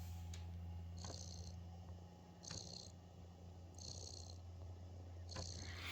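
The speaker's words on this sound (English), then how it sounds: "it's literally got a cat snoring coming out of the mic" A cat snoring in the video game Stray, played through a controller speaker: a soft, rhythmic purring snore with repeating breaths roughly every second and a half, faint and close.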